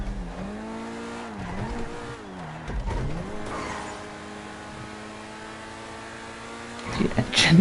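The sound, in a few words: car engine noise in a racing video game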